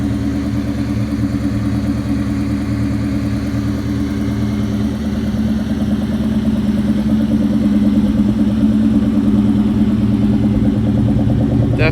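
A Terminator Cobra Mustang with a Bassani/Magnaflow exhaust idles after a cold start, a steady, close, low rumbling burble with a faint mechanical clatter and no change in pace.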